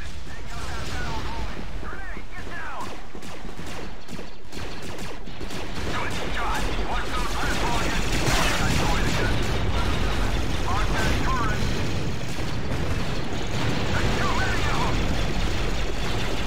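Continuous blaster fire and explosions in Star Wars Battlefront 2 on a Death Star map, a dense, loud barrage of shots and blasts that rolls on without pause.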